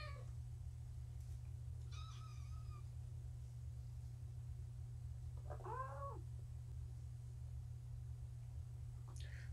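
Kittens meow a few times in a quiet room, two short separate cries over a steady low background hum, with no one talking.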